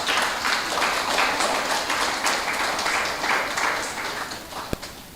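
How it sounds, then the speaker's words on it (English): A crowd at a sports club's decade-anniversary celebration applauds steadily for several seconds, a dense wash of clapping that slowly tapers, with one sharp knock near the end. "I want to start off by asking you to put your hands together for them"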